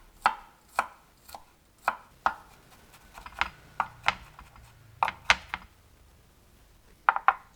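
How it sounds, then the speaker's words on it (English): A knife chops garlic cloves on a board in crisp, distinct strikes, about a dozen of them at an uneven pace with short pauses, close and clear against a quiet background. "Finely chop 2 cloves of garlic"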